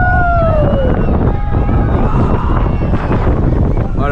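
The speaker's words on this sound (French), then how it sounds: "Avec le vent, ça fait une petite sensation" Wind rushing past riders on a roller coaster at Walibi, a loud continuous roar buffeting the microphone, with brief whistling tones and faint voices underneath.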